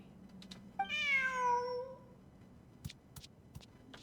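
A single clear cat meow from the video game Genshin Impact rises and falls for about a second, followed by a few soft clicks and taps in a quiet room.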